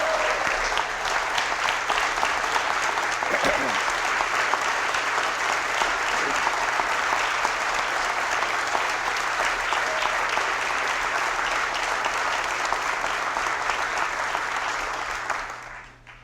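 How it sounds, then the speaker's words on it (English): A large audience applauds steadily at the Delaware Governor's 2020 State of the State address, a dense, even wash of clapping from a big room that holds for about fifteen seconds before fading out at the end. "that makes 2 that get louder applause"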